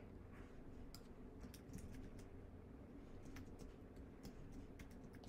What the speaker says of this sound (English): see if I can not make any typing mistakes here